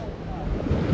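Stormy Black Sea waves surge and break against the Yalta seafront in August, a short, rough rush of surf mixed with gusting wind buffeting the microphone.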